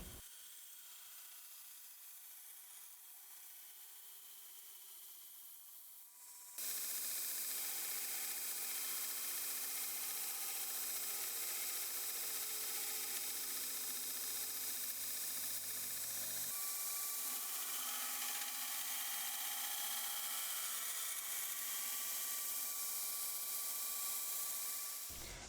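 Bowie knife blade dragged flat along its straight spine across a belt grinder platen, a loud steady abrasive roar starting suddenly after a quiet stretch and running continuously to the end.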